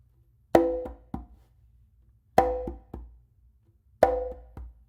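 Conga triplet pattern of an open slap by the non-dominant hand followed by two ghost notes, played three times: a sharp ringing slap then two softer, quick taps each round, close and clear with no talking.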